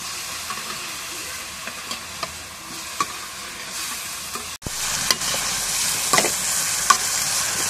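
Fish sizzling loudly in a pan of cooked-down spice masala after going in, a dense continuous frying hiss with scattered stirring clicks, briefly dropping out and then returning stronger.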